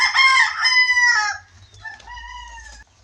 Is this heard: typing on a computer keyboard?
no